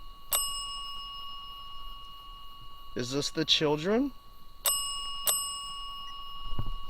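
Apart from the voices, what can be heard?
bell ringing repeatedly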